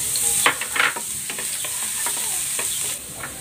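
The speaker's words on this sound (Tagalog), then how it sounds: "Igigisa ko na itong bawang." Garlic sautés in a pan for fried rice: a constant, close sizzle with repeated scraping stirs of a spatula, no voices.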